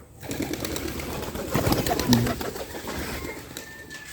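Pigeons, including homers, coo softly around a pigeon house amid a busy ambient wash of noise, with one low, clear coo standing out near the middle.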